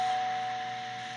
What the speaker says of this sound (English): hey Google, play a doorbell sound.